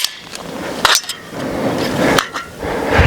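The bolt of a BinTac S45 Mini semi-auto .45 caliber airgun is let go, giving a couple of sharp, close metallic clacks and snaps with a brief rattle between them, loud and mechanical.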